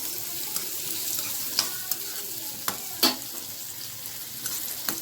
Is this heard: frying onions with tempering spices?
yes